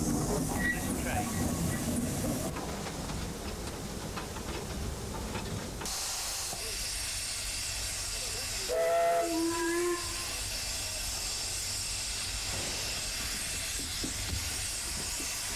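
A vintage steam locomotive on the Festiniog Railway hisses steam, then gives a short whistle blast midway, with station ambience around it.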